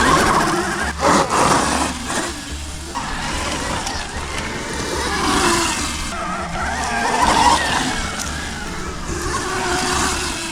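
An electric dirt bike accelerates hard on dirt, a whining motor with skidding, scrabbling tire noise that swells and fades across several runs, loud and close with a few voices in the background.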